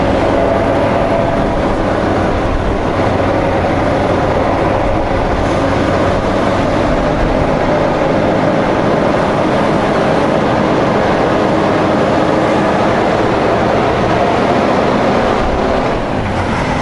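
Heavy truck engine rumbling steadily as it pulls away in second gear, a loud continuous low drone with road and cab noise on the way to Everett, Washington.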